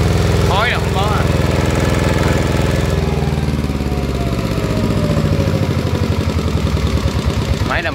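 A used Japanese-market Kubota E55 engine idles up close with a loud, steady, rhythmic diesel chug, and a voice is briefly heard near the start.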